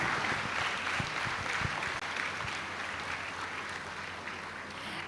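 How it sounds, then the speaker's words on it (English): At the Father Muller graduation ceremony, an audience applauds the graduates with sustained, fairly distant clapping from a large hall, a few sharper claps standing out early on. "Join us in congratulating the fresh graduates by giving a hearty round of applause to all of them once again"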